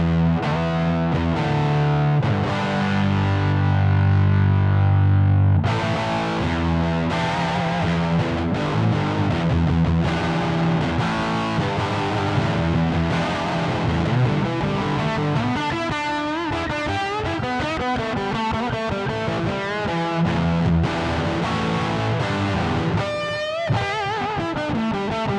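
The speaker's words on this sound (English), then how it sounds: "Let's go back to the fuzz sound, though, because that's the thing that definitely surprised me the most." Electric guitar run through the fuzz setting of a Zoom GFX 707 multi-effects unit, recorded direct: thick, saturated distorted chords and riffs ringing loud and steady, with a brief dropout near the end.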